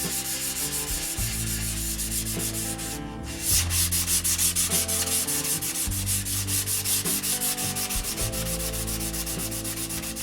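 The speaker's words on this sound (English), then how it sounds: "still sanding." Steady, rhythmic scraping of sandpaper rubbed back and forth over wood, close and continuous, with a brief pause partway through.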